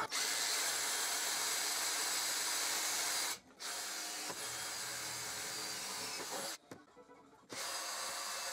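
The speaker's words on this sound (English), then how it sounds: "Then I'm going to drill the holes with a 6mm bit" A power drill with a 6mm bit whines steadily while boring holes in a salvaged-material workbench, with two brief pauses where the motor stops before starting again.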